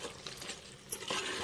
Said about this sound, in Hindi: एक मिनट नाजरीन, मैं इसको अच्छे से मिक्स कर लूँ फिर मैं आपको दिखाऊंगी।